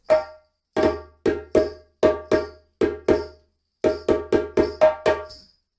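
A djembe plays a short rhythmic phrase of sharp, resonant strikes in quick groups, with brief gaps between them and a longer pause midway.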